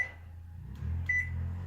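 A GE microwave oven hums steadily with its door closed, a low mains drone that swells partway through, joined by a faint high electronic tone, close and continuous with no speech.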